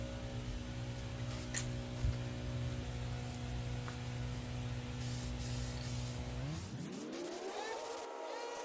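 An aerosol can of Plasti Dip hisses steadily and close up while spraying car wheels. The can has a nozzle problem, and near the end a whirring engine-like tone sweeps downward and fades out.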